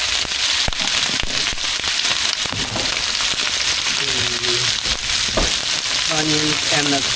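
Onions and sausage sizzle loudly in a pan for red rice, a dense continuous crackling hiss with sharp pops, while a person talks briefly over it.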